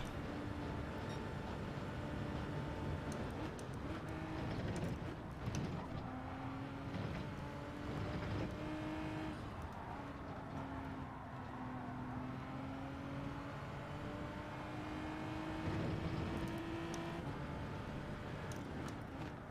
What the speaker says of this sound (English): I think the Hyundai likes the rev.